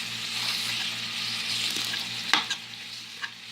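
Garlic flavored Irish sausage fries in a pan for Irish macaroni and cheese, a soft steady sizzle with a low hum beneath and a few brief scraping clicks near the end as it is stirred.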